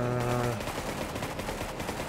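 Rifle fire in the video game Cepheus Protocol crackles in a rapid, dense burst of shots, moderately loud, right after a brief tone.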